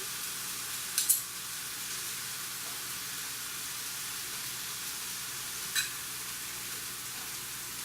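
Okonomiyaki frying in a pan gives a steady close hiss of sizzling oil, with a couple of brief utensil scrapes or clinks standing out.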